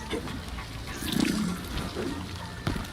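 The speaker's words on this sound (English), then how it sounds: "He could set these water portals" A watery portal effect in Mortal Kombat gives a brief gurgling, splashing whoosh amid game ambience, with a short sharp burst near the end.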